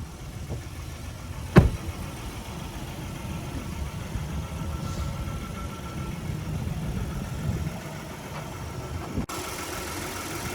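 The 3.8-liter V6 of a 2022 Nissan Frontier SV King Cab idles steadily at a low, even rumble, with a brief sharp click partway through.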